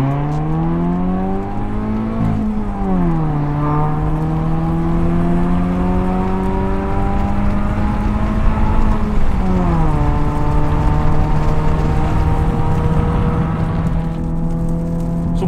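A car engine revs up through the gears, pitch climbing then dropping at each shift, loud and close throughout.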